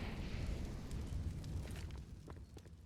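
Grenades and a flashbang go off in a Counter-Strike match on the Inferno map, giving a steady rumbling blast wash with a few sharp pops near the end.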